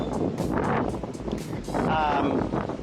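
Wind gusts outdoors in Cebu, buffeting the microphone and stirring leaves in surges that rise toward the end, while someone talks over it.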